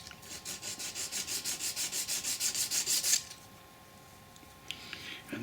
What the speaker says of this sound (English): then just rub it down with the old sandpaper